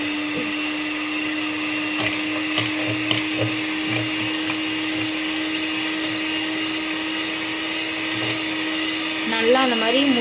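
An electric mixer runs on low speed beating eggs and sugar for milk bun dough, giving a steady, loud motor whine and hum throughout with small rattles, and the pitch rises near the end.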